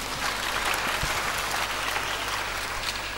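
A church or lecture audience gives a steady round of applause, dense clapping sustained evenly throughout, heard at moderate level with a low hum beneath.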